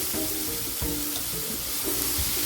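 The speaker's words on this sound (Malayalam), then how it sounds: "ഒരല്പം നെയ്യ് ഒഴിച്ചു കൊടുക്കാം അതിലേക്ക് എടുത്തു വെച്ചിരിക്കുന്ന ക്യാരറ്റ് ഒന്ന് നമുക്ക് സോട്ടി" Carrots sautéing in hot ghee in a pan give a dense, steady sizzle with occasional stirring scrapes, close and loud throughout, with no voices.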